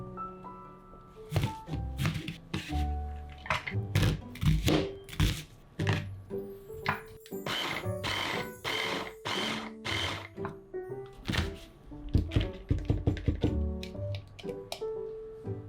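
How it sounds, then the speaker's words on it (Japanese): Rapid knife chopping as enoki mushrooms and onion are minced on a cutting board, bursts of quick close thuds and taps repeating in rhythmic runs with brief pauses between. "えのきと玉ねぎはみじん切り。"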